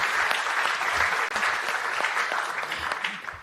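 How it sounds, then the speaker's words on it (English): Sustained, dense applause from a forum audience on food safety, a strong steady wash of many hands clapping throughout with no voices over it. "I would like to invite a round of applause."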